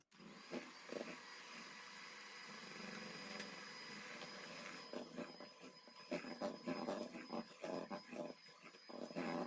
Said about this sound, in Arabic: غادي نحيد الطراب الكهربائي وغادي نخدم بالطراب اليدوي